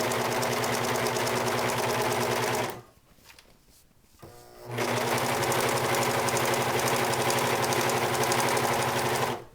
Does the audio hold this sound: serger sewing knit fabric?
yes